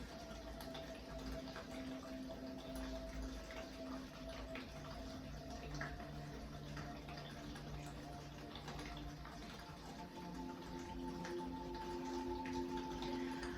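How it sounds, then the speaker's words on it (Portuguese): Water runs steadily for the whole stretch as a soft, even wash. A faint low tonal hum sits underneath, and no voices are heard. "Vamos deixar essa água rolar enquanto a gente respira um pouquinho."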